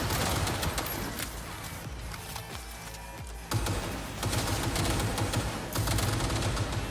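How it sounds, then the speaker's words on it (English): Hostile gunfire aimed at the player in Cyberpunk 2077, a loud, continuous barrage of rapid shots and impacts that dips briefly in the middle before resuming at full intensity. "They're definitely shooting me right now."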